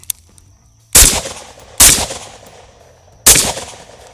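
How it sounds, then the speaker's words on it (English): A rifle fires three loud, sharp shots at uneven intervals, each with a decaying echo, while a malfunction is being deliberately induced near the ejection port to cause a double feed; quiet background between shots. "Alright, go ahead and start firing."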